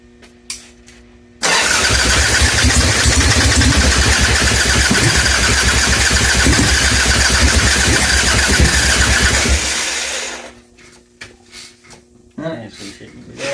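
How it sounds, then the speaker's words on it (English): An Ironhead Sportster motorcycle fitted with a knockoff S&S Super E carburetor starts up and runs loudly with a rough, steady roar for about eight seconds, then cuts out, followed by quieter knocks and a voice. "I stole the Amazon Chinese knockoff S&S Super E off of Chris's 76 and put it on this bike. And then tried to get this thing running."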